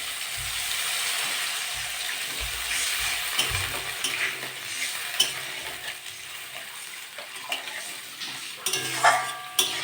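Water poured into frying spice paste for a papaya dhoka curry, with a steady, close sizzle and bubbling, plus scattered clinks and scraping of stirring.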